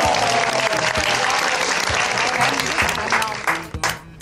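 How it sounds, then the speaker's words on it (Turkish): A studio audience at a comedy show bursts into loud, dense applause with crowd noise, sustained for several seconds before tapering into scattered claps near the end. "Bir alkış alalım mı?"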